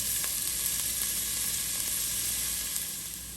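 Onions frying in a pot for chili, a steady close hiss and sizzle with faint crackles, easing slightly toward the end.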